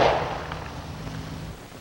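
A single revolver gunshot in defensive firearms training: one sharp loud crack at the start, trailing off into a fading reverberant rumble.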